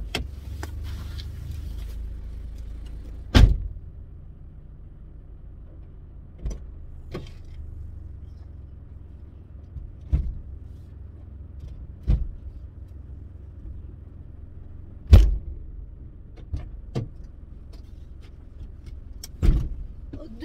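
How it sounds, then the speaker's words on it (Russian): Inside a roomy car, rear seats are folded down to make cargo space, heard as a quiet cabin with scattered sharp clunks, clicks and latch knocks spaced several seconds apart. "Сейчас пойду там эти вон, сиденья разложу, чтобы туда поставить."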